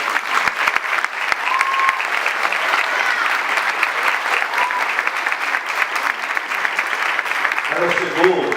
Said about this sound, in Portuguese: Pode dar uma salva de palmas para ela.